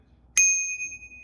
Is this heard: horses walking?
no